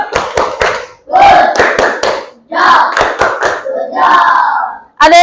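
A classroom group claps out a rhythmic 'good job' clap pattern together, sharp clustered hand claps in quick bursts with chanting voices mixed in, loud and close.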